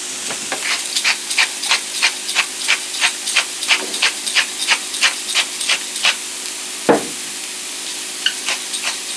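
Beef stroganoff sizzles and hisses in a hot pan while a utensil stirs it, giving a steady run of short, crisp scraping strokes close by.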